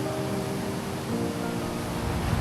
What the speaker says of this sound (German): ich bin direkt am Fluss und das Wasser ist sehr, sehr laut.